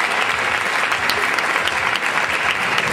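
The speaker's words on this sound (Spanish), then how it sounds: "Fuerte aplauso para Pablo Maza." A crowd at a televised comedy night in Sa Pobla, Mallorca applauds a comedian, giving dense, loud and sustained clapping throughout with no pause.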